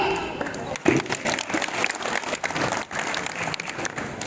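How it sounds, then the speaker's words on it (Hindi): Audience applause at a Hindi poetry recital (kavi sammelan) for students on Independence Day, 15 August 2025, with a steady burst of dense clapping filling the clip, loud and close, with speech-like sounds mixed in. "तो हम जोरदार तालियों के साथ स्वागत करते हैं"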